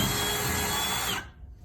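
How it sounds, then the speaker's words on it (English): A power drill bores a hole in material with a loud, steady whirring grind held for just over a second, then cuts off abruptly into quiet. "let's drill a hole"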